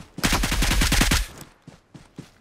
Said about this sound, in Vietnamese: bên trên kia có tiếng súng